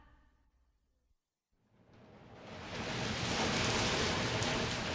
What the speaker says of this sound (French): La pluie tombe sur la base de lancement française de Kourou, en Guyane.